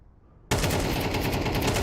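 Gunfire from a video game esports match: after a brief quiet start, a loud, sustained burst of rapid automatic fire runs continuously to the end.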